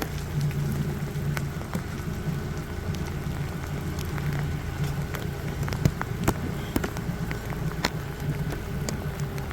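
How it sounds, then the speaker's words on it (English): Steady rain patters on hard surfaces outdoors at a canal lock in Lakefield, Ontario, with scattered drops ticking close by over a continuous low wash and faint background rumble, no voices. "Starting to rain a little harder."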